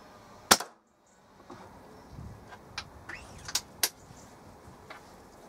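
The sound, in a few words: Weihrauch HW97 air rifle shot firing JSB pellet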